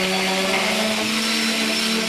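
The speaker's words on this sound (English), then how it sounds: "My orbitable sander removes any of the last burrs and helps round off" An orbital sander whirs steadily on a wooden pergola post, a loud, constant motor drone with a buzzing tone as it smooths off burrs and rounds the corners.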